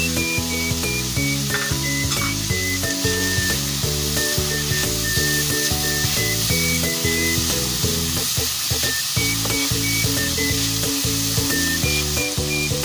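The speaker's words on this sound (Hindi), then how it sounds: "अब हम इसे 2 से 3 मिनट तक भूनेंगे हल्की आंच पे" Chicken, carrot and capsicum fry on low heat, giving a continuous close sizzle with occasional stirring clatter, loud and steady with no voices.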